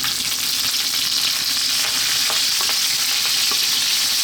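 Curry leaves fry in hot oil with a steady, bright sizzle that fills the whole stretch. Small pops and crackles break through now and then.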